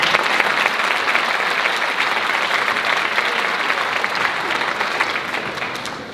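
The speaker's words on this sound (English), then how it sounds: "tonight please give her a round of applause." An audience at a senior awards ceremony gives a round of applause, steady close clapping from many hands that holds evenly and begins to thin at the very end.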